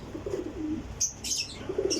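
Salara pigeons in a loft at Sarai Alamgir, Jhelum, cooing in low rolling calls, with brief higher chirps and a flutter near the middle.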